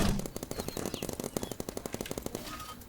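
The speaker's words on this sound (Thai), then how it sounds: "ตอนนี้ผมให้ป้อมผมยิงอยู่" A turret fires paintballs in rapid automatic bursts in the Roblox game BIG Paintball, a dense, loud, evenly spaced stream of shots that runs through the whole moment without talk.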